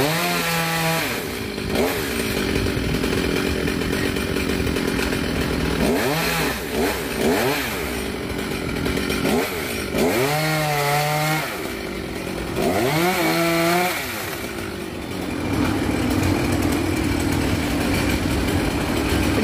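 A chainsaw cuts into a tropical almond tree, its engine loud and close as it revs up and drops back repeatedly over a steady roar, with no voices over it.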